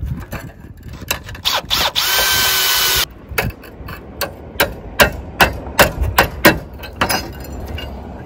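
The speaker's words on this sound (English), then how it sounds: "Just screw into the side of your batten." Cordless power drill driving a screw into the side of a timber roof batten on a tiled roof, with a sustained whirring burst followed by a rapid series of loud, close knocks and taps.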